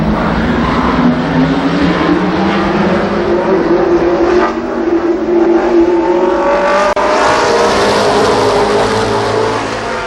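ARCA Pro 4 race cars roar around Columbus Motor Speedway, a loud continuous engine drone with rising and falling pitch as several cars race together, heard from trackside.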